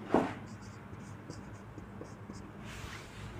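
Chalk or marker scratches across a classroom board in short strokes during a chemistry lesson, faint and close, with quiet room noise around it.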